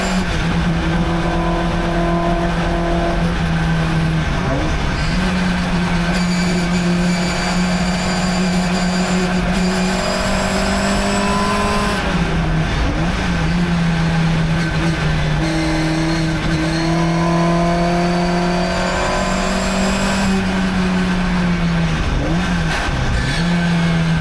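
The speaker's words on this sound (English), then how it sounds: "I'm driving the Lotus 11 Breadvan and it's in the Stirling Moss Trophy." A Lotus 11 GT Breadvan race car drives hard at Goodwood Members' Meeting, its engine loud and close, repeatedly climbing through revs then dropping briefly on gear changes or corners, with no voices.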